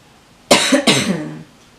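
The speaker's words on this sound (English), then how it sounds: "And I have this crazy cough because 3 out of the 4 kids are sick" Two close, harsh coughs in quick succession, the second trailing off into a raspy exhale, with no talking.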